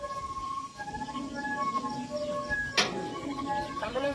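A distant ambulance siren wails with rising and falling tones behind outdoor background noise during a mock drill in a border area, with a sharp clatter partway through.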